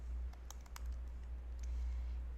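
Several quick light keystrokes tapped on a computer keyboard, faint and scattered over a low steady hum with no voices.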